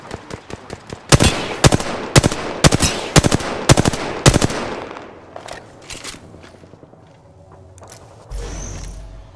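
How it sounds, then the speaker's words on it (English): Gunfire in Apex Legends: a rapid run of sharp, loud shots in quick bursts, then thinner scattered reports and mechanical clicks, ending in a short low thump. "getting shot at"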